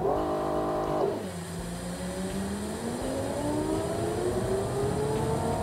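M&J Type 4 Turbo car engine in the racing sim Automation revs high, drops sharply, then climbs steadily under acceleration with a loud, continuous, whining drone and turbo hiss.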